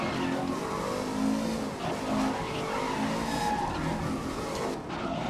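Race car skidding and squealing its tires in the GRID 2019 racing game, a continuous loud engine roar with tire screech running through the whole stretch.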